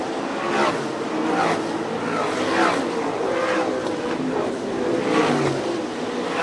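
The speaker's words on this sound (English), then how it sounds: "John Ivey and Dale Blaney now side by side out of turn 4 for the lead." Sprint cars on a dirt speedway in Fremont, Ohio, at an All Star Circuit of Champions Speedweek race roar past in repeated loud waves of revving engines, each swelling and fading as the cars circle, with a crowd-like wash beneath.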